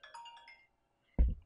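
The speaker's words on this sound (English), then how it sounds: "Oh, I knew my phone was going to ring." A mobile phone ringtone chimes out in a short melodic run of bright tones during a wedding, then fades before a sudden loud low thump.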